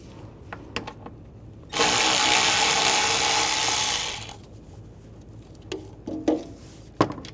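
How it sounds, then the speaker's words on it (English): A ratchet with an 8mm socket backs out a bolt on a 2013-2016 Dodge Dart during a radiator fan replacement. A loud, steady buzzing whir lasts about two seconds, with scattered light clicks and taps before and after. "Using an 8mm socket, take this bolt out."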